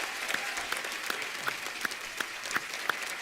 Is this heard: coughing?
no